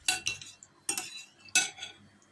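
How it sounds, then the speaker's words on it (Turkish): A spoon stirs garlic sauce made with olive oil in a bowl, producing four quick bursts of close metallic clinking and scraping separated by short pauses. "Şöyle bir karıştırıyorum."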